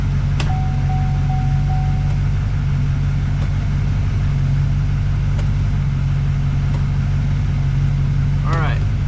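A Chevrolet L5P Duramax diesel truck idles with a steady, even drone and a constant low hum, while a brief tone and a few clicks sound over it.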